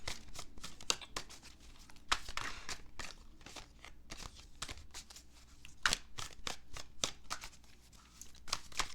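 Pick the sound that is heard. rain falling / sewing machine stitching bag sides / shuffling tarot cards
shuffling tarot cards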